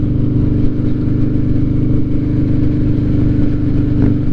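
A Harley-Davidson Night Train motorcycle with new spark plugs, pulling along in fourth gear, makes a loud, steady, low-pitched engine drone that holds without pause and slightly swells near the end.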